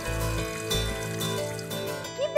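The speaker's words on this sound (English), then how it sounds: "Pour some water." Water poured from a small container onto potting soil in a plant pot, a short trickling splash with a few gurgles, close and fairly soft, no voices.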